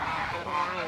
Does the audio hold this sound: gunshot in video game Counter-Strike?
no